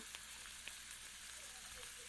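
Banana puris coated with sesame seeds puff up in hot oil in a kadhai, giving a soft, continuous hiss and crackle with a few tiny pops, faint and close.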